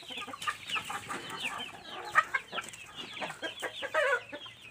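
A thick-necked chicken of a Jeki crossbreed clucks in quick, busy bursts close by, a string of short calls running through the whole stretch without voices.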